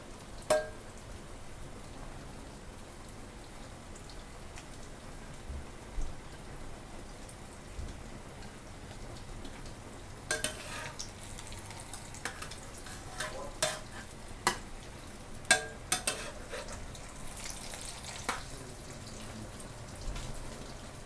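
A Thai basil minced pork omelette frying slowly in oil in a pan, a steady close sizzle with crackling pops and occasional spatula stirs, no talking throughout.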